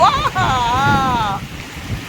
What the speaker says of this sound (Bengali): সাংঘাতিক বৃষ্টি একদম দেখতে পাচ্ছেন আমাদের বাড়ির সামনেটা